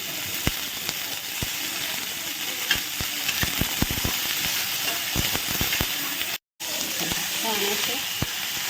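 Vegetables sizzle steadily in a hot pan with a constant hiss, punctuated by sharp clicks and scrapes of stirring, close up, with one brief cut to silence.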